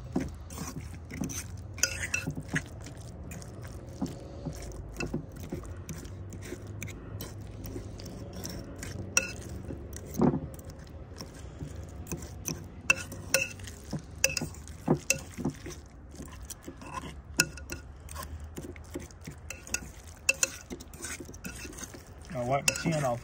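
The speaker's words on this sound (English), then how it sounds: "You want to make sure you're mixing all those ingredients in." Salsa ingredients are stirred and mashed together in a bowl, with repeated scraping and clinking of a utensil against the bowl, alone and close, in irregular bursts.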